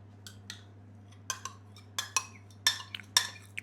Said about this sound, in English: 1 cup of yogurt goes in.